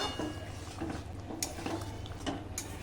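Thick curd being stirred into potol curry in a pan, heard as soft, irregular scraping and light clinks of a utensil against the metal. The sound is quiet and close, with a steady low background hum.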